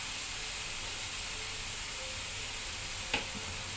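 Green papaya frying with ginger, onion and garlic, a steady broadband sizzle that holds evenly throughout, with a brief utensil tap near the end.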